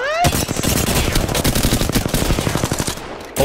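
Rapid automatic gunfire from the video game Apex Legends rattles in dense, loud bursts for several seconds, with brief pauses and a short faint voice near the start.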